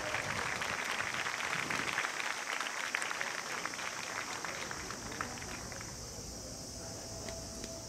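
Crowd applause at a high school archery team match, the women's team bronze-medal final, a steady broad patter of clapping that stays fairly even throughout and fades slightly toward the end.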